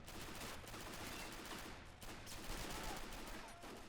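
Dense, continuous gunfire from a World War II real-time strategy battle set during Operation Market Garden, with overlapping rifle and machine-gun bursts forming a steady, loud rattle throughout.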